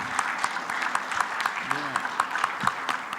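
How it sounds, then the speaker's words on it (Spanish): An assembly audience claps in a sustained, scattered patter from a crowd, moderately loud and continuous, while a voice briefly speaks over it. "al profesor René Bejarano Martínez, para quien pedimos un fuerte y caluroso aplauso"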